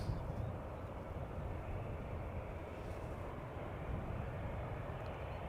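A KLM Boeing 777-300 airliner at Schiphol Airport, heard as a steady, moderately distant engine rumble and roar that holds evenly throughout with no talk over it.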